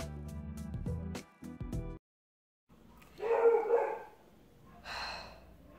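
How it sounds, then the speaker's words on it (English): Dogs barking and yipping while meeting a new puppy next door, a few sharp bursts followed by breathy, excited yaps at moderate distance, with a pause of quiet between them. "I think there's a new puppy next door, and my dogs are getting to meet this puppy."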